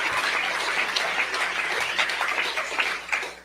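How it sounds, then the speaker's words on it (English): Audience applause fills the room at a Michigan governor's 2025 budget signing ceremony, a steady, dense wash of clapping heard alone for a few seconds. "Yeah, clap for that."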